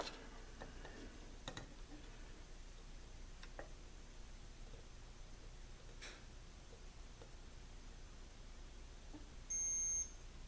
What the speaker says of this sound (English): that beep was my multimeter turning itself off